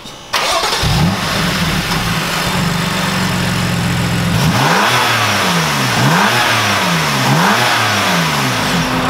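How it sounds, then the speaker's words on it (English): A BMW M3 with stock intake boxes cranks and fires up, settles into a steady idle, then revs sharply several times in a row, each rev climbing and falling back. The sound is loud and close, with no talking. "So first we're gonna do some revs with the stock intake boxes"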